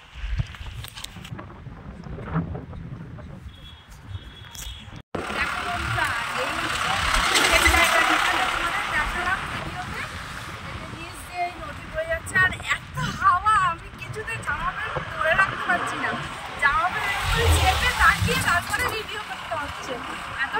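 Strong wind gusts roar by a river, buffeting loudly and unevenly throughout while someone talks over it.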